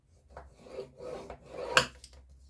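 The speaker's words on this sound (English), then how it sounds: "bring in your Simply Scored scoring tool" A Stampin' Up Simply Scored scoring tool scores paper in a few short, soft scraping strokes, close and quiet, ending with a sharper rasping pull.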